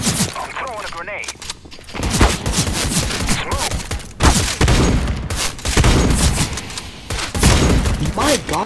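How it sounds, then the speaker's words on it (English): In a Counter-Strike: Global Offensive match, a grenade blast booms amid dense bursts of rifle gunfire, loud and close, with overlapping shots and thuds continuing throughout. "I'm throwing a grenade."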